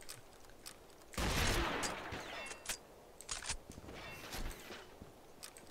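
Sniper rifle fire from a DSR-1 Tactical in the online shooter Combat Arms: a loud, sustained burst of gunfire sound early on, followed by a few sharper shots and lighter game effects, with no voice.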